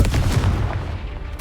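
A Confringo blasting spell explodes in Hogwarts Legacy, a burst of deep booming rumble that rolls on briefly and fades.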